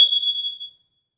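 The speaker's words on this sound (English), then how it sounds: "Guess that was the smoke detector." A house smoke alarm gives a single short, piercing electronic beep in a new-construction pool home, ringing for under a second before it cuts off into silence.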